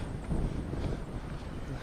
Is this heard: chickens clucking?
no